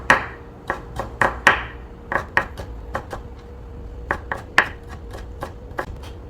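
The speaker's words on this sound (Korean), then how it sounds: "오이 얇게 채 썰기." A knife julienning cucumber thinly on a cutting board, sharp crisp taps landing in quick irregular bursts with short pauses between runs, close and clear with no speech.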